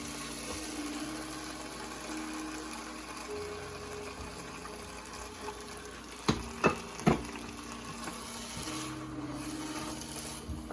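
Tomato cooking in a pan for okra with salted fish, a steady low sizzle and bubbling throughout, broken by three quick knocks in the middle.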